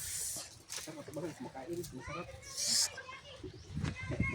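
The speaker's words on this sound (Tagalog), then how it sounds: "Ayan po yung mga bata na una pagligo." Children play and splash while bathing at a hot beach, their voices and shouts carrying over a busy outdoor background, with an adult talking nearby.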